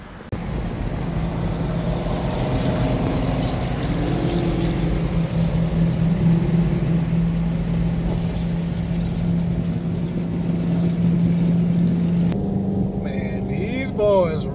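A steady engine drone hums throughout, a 2006 Dodge Charger R/T cruising at highway speed with constant road and wind noise, loud and close.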